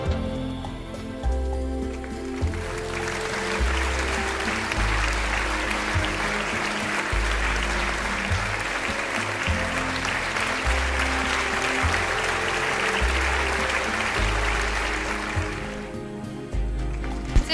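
Sustained audience applause fills a women's award ceremony, a dense steady clatter of many hands lasting well over ten seconds, with soft music underneath before it fades near the end.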